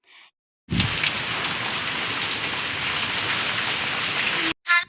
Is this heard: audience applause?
no